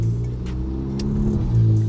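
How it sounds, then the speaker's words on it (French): A Ford Focus RS Black Series engine revs loudly and close by, a steady low rumble with rising surges near the start and again toward the end, with no voices over it. "une petite Ford Focus RS."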